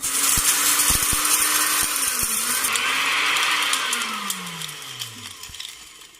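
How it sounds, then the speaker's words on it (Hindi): An electric grinder whirs as it grinds dry-roasted spices, a loud steady motor drone with short pulses near the start, then a whine that slows and winds down toward the end. "अब हमें इसको पीसना है।"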